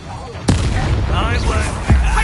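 An Expelliarmus spell cast in Hogwarts Legacy, a sharp booming blast followed by a rumbling magical whoosh and a second heavy impact near the end, loud and close, with a voice calling out over it.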